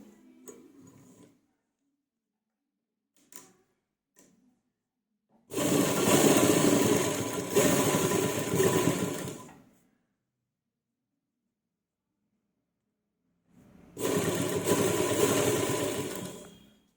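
Sewing machine stitching piping onto a round neckline, two bursts of steady whirring stitching a few seconds long separated by silence, with a few faint clicks from handling before the first.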